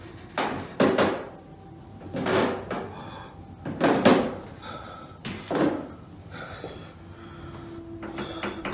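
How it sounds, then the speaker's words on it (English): A door creaks and thuds in a horror-style effect, several loud knocking and scraping bursts with a thin sustained squeal in between, alone with no talk. "That's when he heard the door behind him creak."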